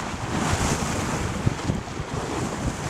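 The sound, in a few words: ocean waves and wind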